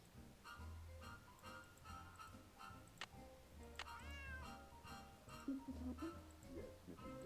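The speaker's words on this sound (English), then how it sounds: "Now, the cat's gonna meow." A cat in the 2005 game Nancy Drew: Secret of the Old Clock meows two or three times, fairly clear over a steady low hum and faint background noise.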